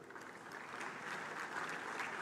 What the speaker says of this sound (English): Please welcome him warmly with a round of applause.